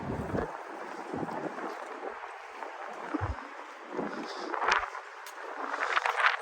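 Gusty wind buffets the microphone in low rumbling bursts, with some lighter rushing and splashing noises toward the end.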